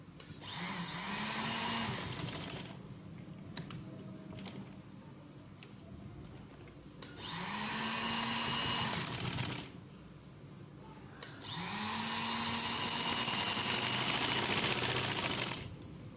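Sewing machine double-stitching shalwar fabric, three separate bursts of fast rhythmic stitching, close and steady, with quieter handling pauses between them.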